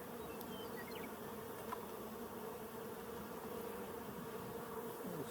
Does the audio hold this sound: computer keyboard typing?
no